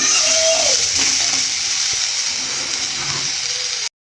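Soybean chunks and potatoes fry in a pan with a steady, fairly loud sizzle that runs close and even before cutting off abruptly.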